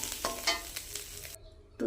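Fried drumsticks sizzle loudly in a pan as they are stirred with a little chilli powder; the frying sound cuts out abruptly near the end, leaving brief quiet before a final scrape.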